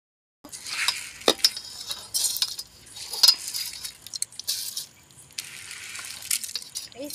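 Basmati rice is stirred into a pot of chicken biryani, with scraping spoon strokes over soft sizzling and bubbling in an irregular rhythm, close and moderately loud.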